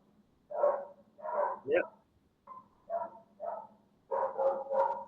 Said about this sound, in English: My dogs, if you can hear that.